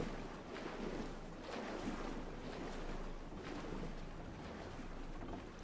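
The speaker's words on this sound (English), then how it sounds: "It sounds like there's something really big splashing around over here somewhere." Something large splashing and churning in water within the Myst IV: Revelation video game, heard as a steady wash of sloshing water noise with soft surging swells, no talk.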